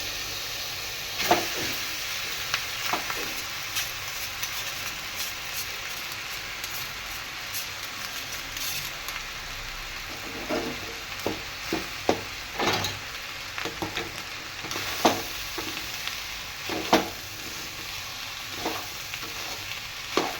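Rice for pulao being stirred and sautéed in a pan, with steady frying sizzle throughout and repeated scraping clicks of a spoon at irregular intervals, close and moderately loud.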